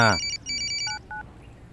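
A brief electronic telephone ring: a few quick warbling tones followed by two lower beeps, heard after a short burst of voice.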